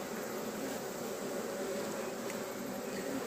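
Honeybees at an evening apiary hum in a continuous, close, steady buzz of many insects, with no voices over it, lasting a few seconds.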